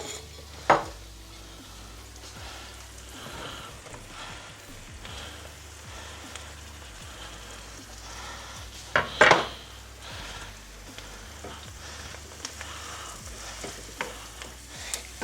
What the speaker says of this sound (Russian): Сейчас быстренько мы обжарим грибочки наши.